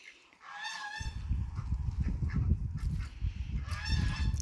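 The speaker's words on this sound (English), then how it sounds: "how far the geese can reach in through the garden fence" Geese honk loudly and close in bursts at a farm garden fence, repeated nasal calls with a low rustling bed between them on a rainy day.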